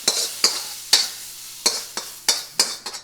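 Vegetables and shrimp are stir-fried in a pan for keto shrimp fried rice, giving a string of sharp scraping tosses about every half second over a light sizzle, close and fairly loud, with no talking.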